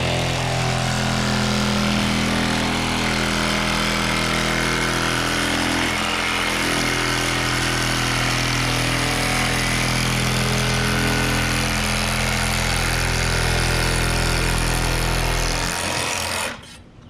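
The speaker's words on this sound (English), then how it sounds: "Be careful, don't let that extractor hit the side of the vehicle there, that pinch weld." A power windshield extractor tool cutting out the windshield of a 2020-2022 Subaru Outback, a loud continuous buzzing drone up close that runs steadily before cutting off at the end.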